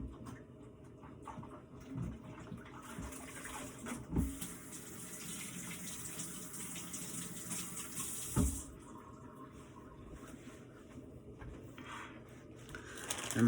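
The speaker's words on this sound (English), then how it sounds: "Wash my hands real quick." A kitchen tap runs steadily while hands are washed under it, a soft continuous splash with a few louder splashes and clunks, fairly close and without talking.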